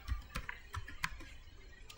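Someone types Python code on a computer keyboard, producing close, irregular clicks and taps that come in quick bursts with no talking.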